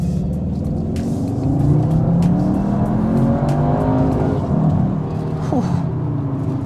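The engine of a 310 bhp all-wheel-drive CUPRA Leon Sportstourer wagon revs hard in CUPRA mode, a loud, continuous rising and falling roar heard up close with a short crackle near the end.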